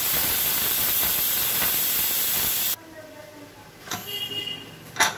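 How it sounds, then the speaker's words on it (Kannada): A pressure cooker holding mushroom biryani releases a loud, steady rush of steam that cuts off abruptly after a few seconds, followed by quieter kitchen sounds and brief talking. "1 ವಿಸಿಲ್ ಬರೋವರೆಗೂ ವೆಯ್ಟ್ ಮಾಡೋಣ."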